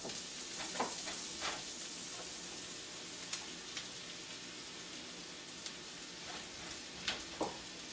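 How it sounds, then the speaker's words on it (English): A pound of sliced mushrooms fries with onions in a sauce, making a steady soft sizzle broken by occasional crackles and light stirring clicks, faint and close, with no talking. "we're going to add 1 pound of these sliced mushrooms to the sauce,"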